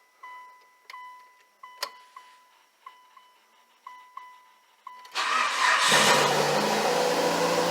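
Mitsubishi Lancer Evolution 8/9 with a freshly replaced timing belt: a steady tonal chime with regular ticks for about five seconds, then the engine cranks and catches, settling into a loud, broadband idle that runs to the end.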